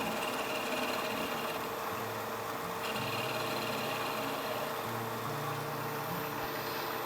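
A wood lathe turning an owl carving, a steady mechanical hum and whir running continuously at moderate level, with no speech over it.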